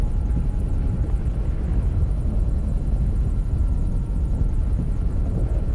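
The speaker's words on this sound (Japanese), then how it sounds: "ヘリに向かってください" Helicopter rotor drone in a video game, a steady, dense low-pitched roar with faint rhythmic chopping above it, continuous and close throughout with no voices.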